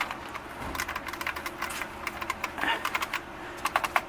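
Rapid typing on an older IBM Wheelwriter 15 keyboard made by Lexmark, a close, irregular run of crisp key clicks with a few heavier thocks, no voices.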